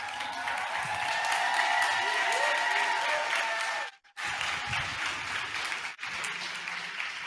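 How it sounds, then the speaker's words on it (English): A crowd at an outdoor Black Lives rally in Boston applauds with cheering mixed in; the dense clapping is broken by two brief dropouts and then resumes. "Give Hannah another round of applause"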